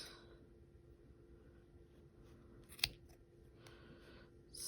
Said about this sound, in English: I am going to cut all the rest of the loops